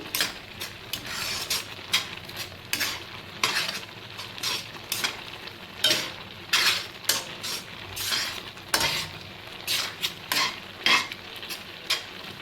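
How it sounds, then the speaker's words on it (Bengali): A spoon stirs pumpkin halwa in a pan, repeated close scraping and clinking strokes in an uneven rhythm over a faint sizzle, with no voices. "এইভাবে সবসময় নাড়াচাড়া করে থাকবেন"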